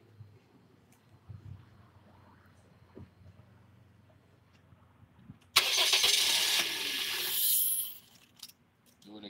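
A car engine is cranked over and started. A quiet, low hum runs for several seconds, then a sudden loud, hissing roar bursts in and holds for about two seconds before dropping back down.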